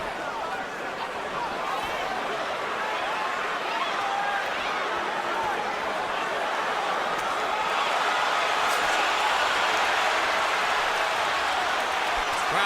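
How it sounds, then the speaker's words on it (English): A boxing arena crowd watching Floyd Mayweather fight builds into a dense din of applause, shouts and chatter that swells gradually louder toward the end. "Crowd is now rising in the excitement of watching Mayweather do his thing"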